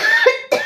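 A person with a cold and fever gives two quick, close coughs, the second following a brief gap, harsh and voiced.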